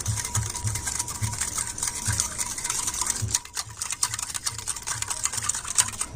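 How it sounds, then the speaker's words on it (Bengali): Milk, powdered sugar and mango pulp being mixed in a bowl: rapid, rhythmic clicking and tapping of a utensil against the bowl, steady and close, with a brief pause partway through. "আমি দুধ চিনি আর আমের পাল্পটা খুব ভালোভাবে মিশিয়ে নেব"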